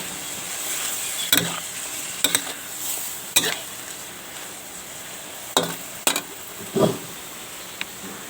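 Egg stir-fried with home-made pickled bamboo shoot water in a pan, a low steady sizzle broken by about eight sharp metallic scrapes and clanks of the spatula against the pan, close and with no talk.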